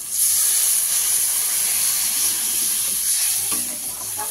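Hot masala fries in a pan as gravy goes in for a Bengali rui fish curry with pumpkin stems, giving a loud steady sizzle and hiss that eases slightly near the end.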